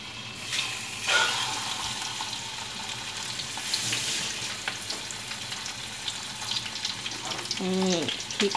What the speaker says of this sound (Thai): นี่แล้วก็มาทอดปลาทูต่อนะคะแล้วก็ใส่น้ำมันลงไปนะคะ